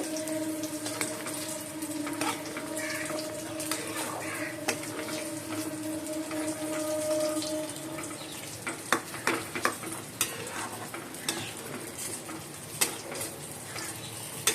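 A pan of cauliflower curry bubbles and simmers with a steady soft hiss, punctuated by occasional clinks and scrapes of a spoon stirring.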